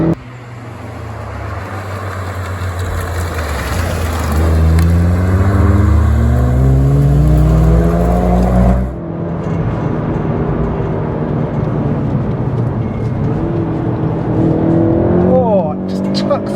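A VW Golf GTI Clubsport S, front-wheel-drive, being driven hard on the Nordschleife, its engine revving up loudly through the gears with rising tones, a sudden drop at a shift, then climbing again toward the rev limiter.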